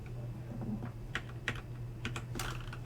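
Typing on a computer keyboard during a physics class group session, a steady run of close, quiet key clicks with a few sharper taps, alone without talk over a low background hum.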